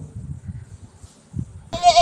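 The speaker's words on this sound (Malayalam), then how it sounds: "Goat, Aadu, bleat" A goat bleats once, short and wavering, close and fairly loud, at the very end after a stretch of low background murmur.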